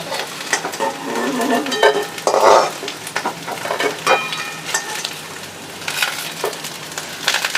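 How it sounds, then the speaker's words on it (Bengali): Chili mushroom pieces fry in hot oil over a high flame, a close, crackling sizzle broken by repeated scrapes and clinks of a spatula against the pan, with no talk. "হাই ফ্লেমে এটা ভেজে নিতে হবে"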